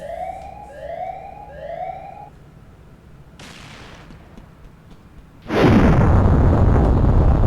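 In a Roblox facility survival game, the Siren Head monster's siren rises and falls in three repeated wailing swells, followed by a rumbling burst and a loud sustained roar.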